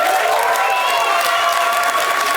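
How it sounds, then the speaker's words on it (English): An audience claps steadily through a comedy show, dense applause under a bright, continuous crowd wash, with no pauses across the short stretch. "Give me a clap."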